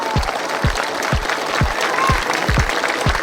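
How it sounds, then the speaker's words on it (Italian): An audience claps for a pageant presenter in a continuous wash of applause, with a few heavy, regular thumps recurring underneath. "vi chiederei un applauso per lei"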